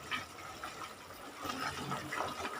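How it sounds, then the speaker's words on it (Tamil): Tap water runs into a mixer grinder jar to rinse it, a fluctuating splashing gush close by that swells and fades for a few seconds. "மிக்சி ஜாரை கழுவிட்டு தண்ணி சேர்த்துருக்கேன்."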